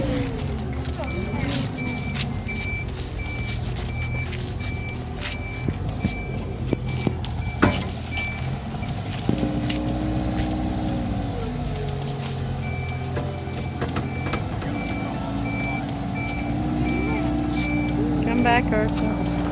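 A truck backing up at a home sandpit delivery of crushed rock sounds a steady, repeating reverse beep over a low idling engine, with people talking nearby throughout.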